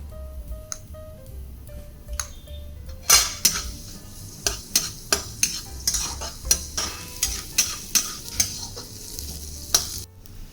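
Chopped garlic and onions fry in oil in a karai, a steady sizzle broken by a run of sharp, regular clinks and scrapes as a utensil stirs against the pan, close and fairly loud.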